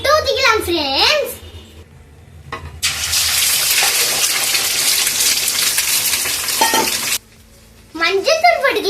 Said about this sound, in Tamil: எண்ணெய் காஞ்சிச்சு. முட்டை ஊத்திக்கலாம் ஃப்ரெண்ட்ஸ்.